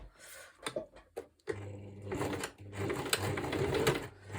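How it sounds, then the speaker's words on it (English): A domestic sewing machine run by foot pedal on its smallest stitch setting, starting after a few short taps and then whirring steadily and closely for several seconds with slight speed changes. "And I've got the smallest stitch that I can find on my machine."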